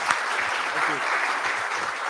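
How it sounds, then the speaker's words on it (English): Audience applause fills a talk venue, a steady dense patter of many hands clapping at close range, with a voice briefly heard over it. "should we give him a huge round of applause?"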